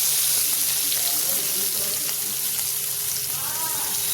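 Chopped onion drops into hot oil with frying fish and five-spice tempering, setting off a steady, fairly loud sizzle with faint bubbling and crackle, close by and without talk.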